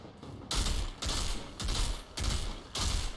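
An assault rifle firing bladed rounds in the Outriders shooter game rattles out in about five loud, close bursts, separated by short gaps.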